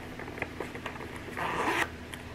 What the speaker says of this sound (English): That's what your zipper should sound like.